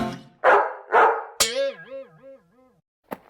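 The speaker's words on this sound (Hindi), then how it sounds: "पिंकी और मेजर साहब का कुत्ता।" A cartoon dog belonging to the Major in an animated Pinki comic gives two loud, rough barks, then a wavering, whining howl that fades out, followed by a short sharp click near the end.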